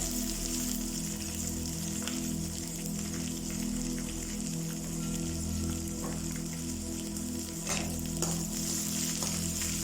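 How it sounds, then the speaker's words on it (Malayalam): Dried red chillies fry with mustard seeds in hot oil for a spinach thoran, a continuous close sizzle with scattered sharp pops and crackles and no talking. "ഉണക്കമുളക് ശരിക്കും നമുക്ക് കടുകിൻ്റെ ഒപ്പം ഇട്ട് കൊടുക്കാം കേട്ടോ."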